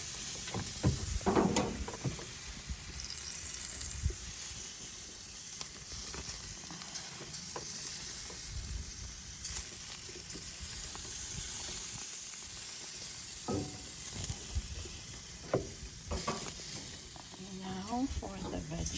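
Beef souvlaki skewers sizzle and hiss in a pan as they are turned over, giving a steady frying crackle broken by clatters and knocks from handling.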